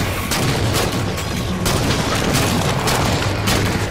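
Grenade and weapon blasts in the Halo 4 Spartan Ops Invasion mode, with dense, continuous booming and gunfire-like bursts that sharpen into several louder thumps.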